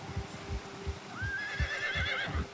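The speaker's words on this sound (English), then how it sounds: "Horses said something." A horse neighs in the video game Red Dead Redemption 2, a single clear whinny rising over a steady rhythm of hooves clip-clopping close by, quiet overall with no talking.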